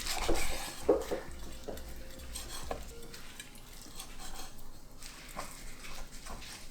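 Knife and fork scrape and clink against a plate while a thick sous vide steak is cut up, giving a few sharp metallic taps and scrapes close by, with faint rustling and no talk.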